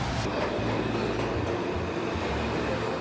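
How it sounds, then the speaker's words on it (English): A subway train rumbles inside a New York City subway station, a steady loud roar with low-pitched grinding and hum throughout. "Made it out of the subway."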